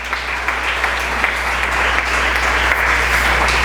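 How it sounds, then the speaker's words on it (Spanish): A church congregation applauds after a scripture reading, a loud, dense, steady wash of clapping that fills the whole stretch without voices. "Denle un aplauso a la palabra del Señor."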